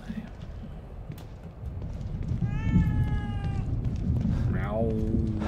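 A cat in the horror game The Evil Within 2 gives a couple of short meows, the second rising and falling, over a low rumbling ambient background with no talk.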